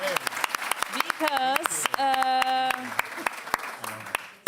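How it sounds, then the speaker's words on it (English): Warm audience applause at a talk event, steady clapping from a crowd mixed with a presenter's voice and singing-like tones over it, fading near the end. "can I already have a warm applause"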